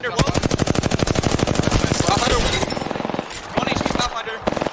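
Rapid automatic gunfire from Apex Legends rattles in dense bursts, loud and continuous for a few seconds before thinning into shorter volleys, with a voice talking over parts of it.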